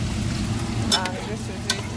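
Steamed tomato going into a frying tomato stew, a constant loud sizzle with a couple of brief stirring scrapes and splashes partway through.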